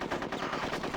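Rapid bursts of grenade blasts and gunfire strike Conker the squirrel in the Nintendo 64 game Conker's Bad Fur Day, a dense, loud, continuous barrage with repeated sharp impacts and no talking.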